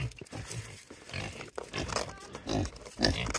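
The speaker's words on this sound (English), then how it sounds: "All right, Pig, get back" Farm pigs grunt and snuffle close by in a busy barnyard on a 15-acre homestead, with intermittent bursts of animal noise and shuffling over the whole stretch.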